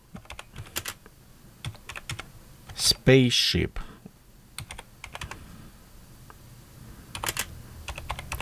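Fingers type on a computer keyboard in quick, irregular bursts of clicks, close and moderately loud, while a person speaks briefly partway through.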